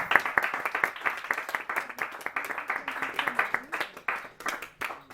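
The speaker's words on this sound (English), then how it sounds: "A round of applause, please." A stand-up comedy crowd claps in a dense, crackling patter of many hands that rises and eases in waves, with a faint voice now and then underneath.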